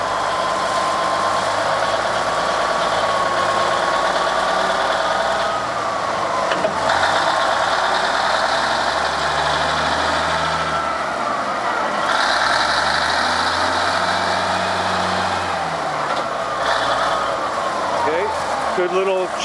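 A Nelson 400 three-yard diesel wheel loader idles with a steady low rumble and mechanical clatter, close and continuous throughout, while someone talks over it.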